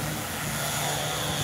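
Electric 1/3 scale Super Cub RC plane, about 31 to 32 pounds, taking off with a steady, loud motor and propeller drone that holds even throughout, alone without talk.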